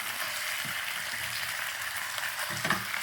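Bourbon chicken frying in a non-stick skillet gives off a steady, close sizzle, with a couple of soft scraping stirs near the end.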